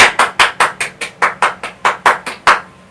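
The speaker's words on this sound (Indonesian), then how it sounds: "kasih tepuk tangan" About a dozen evenly spaced claps ring out sharply and close, like classroom applause from children in an elementary school lesson, steady in rhythm before stopping.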